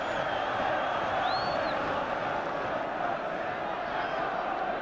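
A big football crowd roars and chants steadily at a Sunderland match against Spurs, a dense, loud wash of voices that never lets up, with a commentator talking over it.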